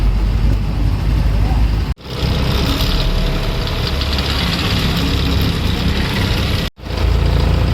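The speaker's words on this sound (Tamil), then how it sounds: "இதில் தான் மொத்த வண்டியும் போகுது அதனால் பயங்கர டிராஃபிக்காக இருக்குது" Heavy road traffic crawls across a sea bridge toward Ernakulam near Cochin, a steady loud rumble of idling engines and vehicles with brief gaps, while someone talks over it.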